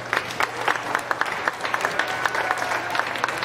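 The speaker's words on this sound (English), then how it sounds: "Let's give him a big round of applause." A small crowd at a county fair sheep show claps steadily for a few seconds, the individual hand claps distinct and moderately loud, with no voices over it.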